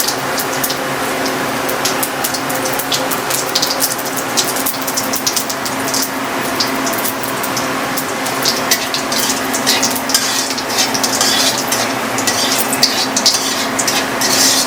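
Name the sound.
bay leaf and white cumin sizzling in hot oil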